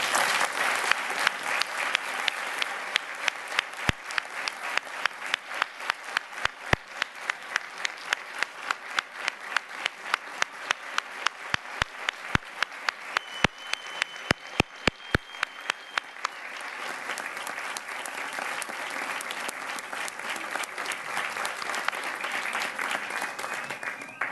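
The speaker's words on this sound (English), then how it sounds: "we want to again ask everyone in the audience to give them a round of applause" Audience applause for retiring city council members at a Charlotte City Council meeting: dense, steady clapping that holds for most of the stretch, with scattered sharp individual claps standing out, then a softer, more blended wash of applause.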